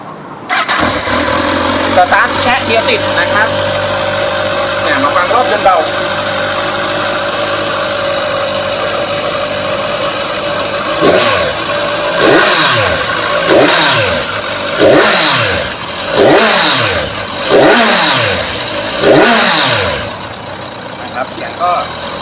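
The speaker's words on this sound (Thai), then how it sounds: "เดี๋ยวมาฟังเสียงเครื่องยนต์กันเลยดีกว่า" A 2014 Kawasaki Z1000 motorcycle engine idles steadily, then revs repeatedly in a series of rising bursts, loud and close, with a voice talking briefly.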